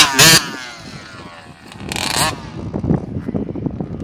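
A child's Yamaha PW50 motocross dirt bike on a peewee practice track at Freedom, buzzing in two sharp bursts as it takes a jump, then a rougher, steadier engine drone close by.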